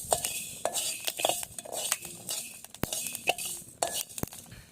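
A utensil scrapes and clinks against a pan as fenugreek seeds are stirred and dry-roasted, with rapid irregular metallic taps and faint crackling close by.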